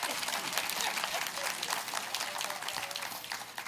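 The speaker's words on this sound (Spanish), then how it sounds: "un fuerte aplauso al Señor. Si va a aplaudir, apláudale bien." Sustained applause from a church congregation, dense clapping throughout at an even, moderately loud level.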